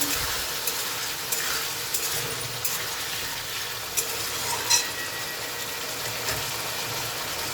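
Potatoes and long beans cook in a pan with a steady low sizzle and bubbling, as a spatula stirs and scrapes in scattered strokes close by, with no one speaking.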